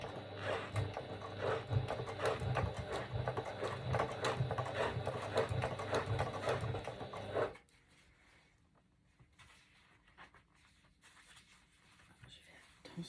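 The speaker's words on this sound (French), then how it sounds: "on va donc faire une surpiqûre tout le long de chaque côté" A sewing machine topstitches along each side of a fabric bag body, running as a steady, close mechanical whir for about seven seconds before stopping into near silence.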